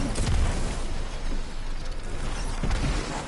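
A Nova grenade exploding in the Destiny video game: a dense, loud, crackling burst of energy that keeps churning with rumbling booms throughout.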